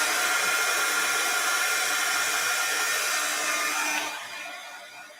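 A hair dryer blows steadily on fresh paint on a farmhouse craft project, a loud, even whir held close for about four seconds before it drops away to a fainter hum.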